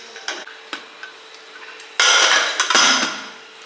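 Metal spoon scraping and clinking against a pot while stirring green peas rice, a few light taps followed by a louder, close burst of scraping, with no talk.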